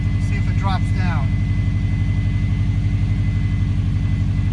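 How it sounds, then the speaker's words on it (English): A Subaru WRX with the EJ20 engine idles steadily right after its idle air control valve was cleaned, a constant low rumble that holds even throughout. A brief voice rises over it near the start. "it's definitely idling now"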